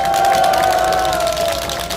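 Outdoor political rally crowd in Yongsan's Samgakji area cheering and applauding for Kim Moon-soo, a loud, dense roar of voices with a sustained tonal cry over it, continuous throughout.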